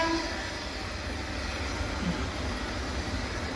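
A train approaches from a distance, giving a steady low rumble and broad roar that holds at a fairly even level throughout, heard from outdoors.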